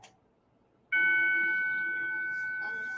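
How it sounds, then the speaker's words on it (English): Electronic bell tone chimes once after a short quiet stretch, a clear sustained ring that slowly decays over a couple of seconds. "Let the bell ring, y'all."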